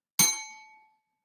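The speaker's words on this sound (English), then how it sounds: "The bell came with us to 2023." A single bell struck once as a podcast's signature sound, a bright ding with a sharp attack and a clear ringing tone that decays over about half a second, heard alone and close.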